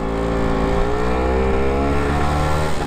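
A Lambretta scooter's two-stroke engine revs steadily and rises in pitch as the rider adds throttle and lets the clutch out to pull away, loud and close with a continuous buzzing drone.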